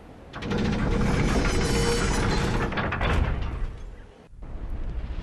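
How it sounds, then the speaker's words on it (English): A giant corkscrew-shaped wheel contraption in Dark Souls grinds and rumbles as it turns and screws itself down into a bridge, a loud, dense mechanical roar lasting several seconds before a brief drop and renewed low rumble. "you push the wheel, and it rotates this whole contraption, which is also like a giant corkscrew, so it kind of screws itself down a little bit and forms a bridge"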